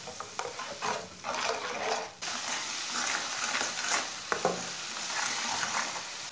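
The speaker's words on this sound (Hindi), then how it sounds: "पानी डाल के ना 1 मिनट तक मिक्स कर लेंगे।" Steady sizzling of spices and water in a hot pan with scraping stirs and faint watery bubbling, continuous and close, no voices.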